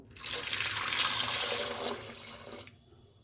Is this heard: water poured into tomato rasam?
yes